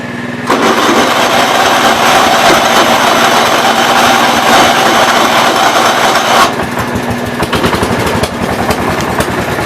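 A 4-wheel-drive tractor that may be out of gas or flooding runs roughly near the microphone, its loud continuous engine chugging at a steady pulse for nearly ten seconds, the tone loosening partway through.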